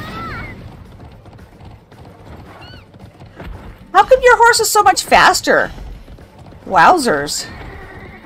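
A horse in a video game race gallops with steady clip-clop hooves and lets out loud whinnies, with people talking and exclaiming over the action.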